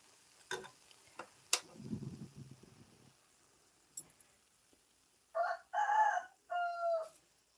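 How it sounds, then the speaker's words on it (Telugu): Chickens and roosters kept in the yard next door: after a few scattered clicks and soft rustling, a rooster crows in several drawn-out bursts near the end, moderately distant. "మా ఇంటి పక్కలో ఫుల్ కోళ్ళు ఉన్నాయి,"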